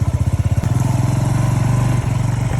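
Motorcycle ridden along a country road through an abandoned village in Ukraine's Poltava region: a close, loud engine with a fast, pulsing throb that steadies into a continuous chugging drone, without speech.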